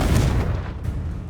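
A Confringo spell blast in Hogwarts Legacy lands as a short, heavy boom with a dull rumbling body that quickly fades, loud and close, with no speech over it.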